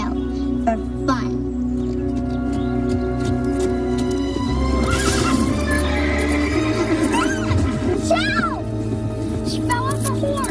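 A horse whinnies and neighs several times, with hooves clip-clopping, over a steady bed of music and some background voices.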